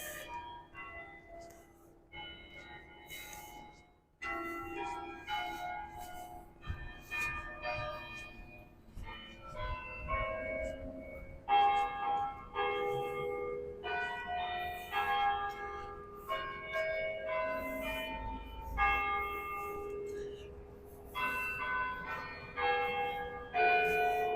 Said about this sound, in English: I'll bet you that's the bell ringers practicing up there.